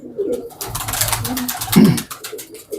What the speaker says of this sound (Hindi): ज़रा खुडों के अंदर कबूतर हैं